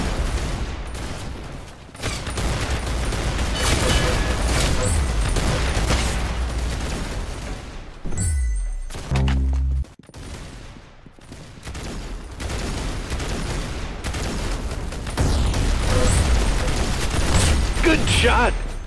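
Gunfire in the Arsenal shooter game, dense rapid volleys and mechanical clatter packed close and loud, with a brief lull and a deep thud midway before the shooting resumes.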